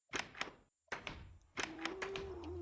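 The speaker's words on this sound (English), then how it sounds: "I will never get tired of listening to the original Minecraft door sound." The original Minecraft wooden door, opening and closing in several short hollow clunks and taps, close and crisp, separated by brief pauses, with no voices.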